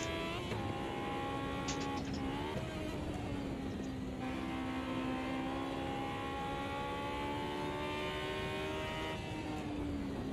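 A race car engine in Automobilista 2 holds a steady high drone with one gear change, sustained and close, with no voices over it.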